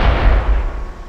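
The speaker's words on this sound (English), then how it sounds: "As I figured, it's a much bigger explosion, much more effective." A large warhead detonates in the Space Engineers video game, a single loud, deep explosive boom that rumbles and fades over about a second.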